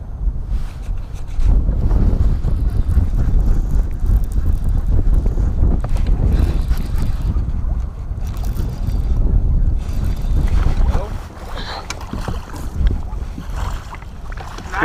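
Wind roars and buffets through open car windows on a drive, a loud, steady low rumble with gusty swells that eases slightly near the end; no one speaks.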